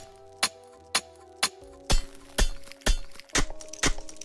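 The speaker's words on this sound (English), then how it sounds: "You're mining that iron." Iron ore is mined by hand in the factory-building video game Factorio, with sharp metallic clinks repeating about every half second over a low steady tonal hum.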